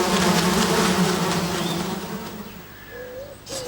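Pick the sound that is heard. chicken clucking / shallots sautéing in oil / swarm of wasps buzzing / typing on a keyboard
swarm of wasps buzzing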